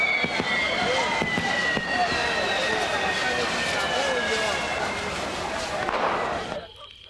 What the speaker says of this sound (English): Accidentally, all the fireworks ignite at once.